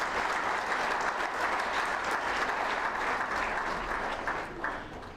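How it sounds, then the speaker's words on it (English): An audience at a college commencement day ceremony applauding, a dense continuous wash of clapping that holds steady for several seconds and eases slightly near the end, fairly loud with no voices on top. "So may I request all of you to give a big applause to this great beginning."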